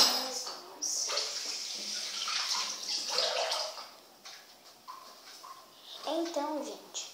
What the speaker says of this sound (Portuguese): deixa eu jogar a colher aqui, né? E lavar as minhas mãos.